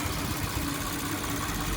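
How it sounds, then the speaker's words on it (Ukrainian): A 2019 Porsche Cayenne's 3.0-litre 340 hp V6 petrol engine idles steadily with a low, continuous rumble and faint vibration, close by, with no voices. "У нашому Porsche стоїть трьохлітровий бензиновий двигун на 340 кінських сил"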